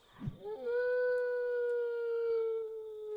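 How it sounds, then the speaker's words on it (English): Wolves howling in the Minecraft modpack RLCraft: a single long, clear, sustained howl that rises and then holds, fairly close and standing alone. "Puppies are singing."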